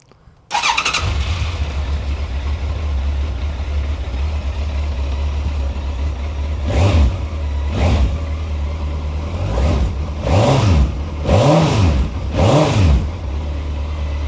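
A Suzuki GSX1400 motorcycle, a dusty barn find, cranks and fires into a steady idle nearby, then a series of four or five sharp throttle blips rise and fall in pitch.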